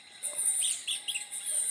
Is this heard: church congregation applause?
no